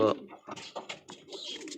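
Pigeon cooing at its nest where it has just laid an egg, a series of soft, close coos and throaty calls following one another in an uneven rhythm.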